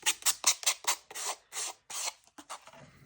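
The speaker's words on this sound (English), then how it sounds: "I'm going to go ahead and kind of sand that back there just a little bit" Sandpaper rasps back and forth against the paper edge of a handmade journal pocket, producing a quick run of close, scratchy strokes, about ten in all and slowing slightly toward the end, with no talking.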